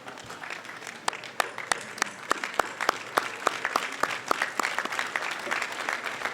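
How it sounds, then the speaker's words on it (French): An audience at a school excellence awards ceremony in Dakar applauds steadily, with sharp individual claps standing out from a dense, continuous wash of clapping. "je voudrais bien sûr demander à toute l'assistance de se lever et d'applaudir très fort les parents d'élèves"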